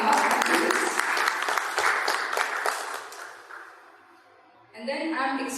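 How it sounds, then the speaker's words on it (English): An audience at a World Intellectual Property Day event applauds loudly as panelists are welcomed, a dense burst of clapping that fades away over a few seconds before a voice starts talking. "please give a huge round of applause and welcome our panelists"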